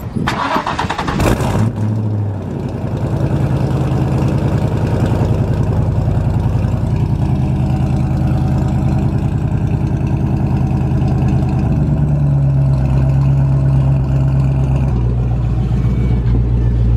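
A Fox-body Ford Mustang engine with BBK shorty headers cranks and starts up, then settles into a loud, close, throaty idle with rising revs, heard near the exhaust, with no talking.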